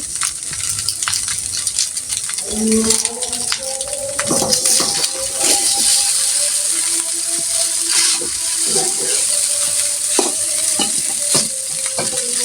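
Noodles with their packet spice mix frying in a pan, continuous loud sizzling with repeated scraping and clattering of a utensil stirring them, close by.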